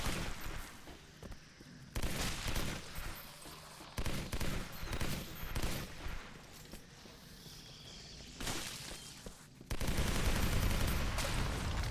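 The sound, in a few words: gunfire in the video game Legendary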